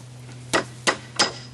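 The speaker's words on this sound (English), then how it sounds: "This is called the broom hammer." A foot-operated broom hammer drives wire down into the corn on a broom handle. It gives four sharp, evenly spaced strikes, close and loud, over a steady low hum.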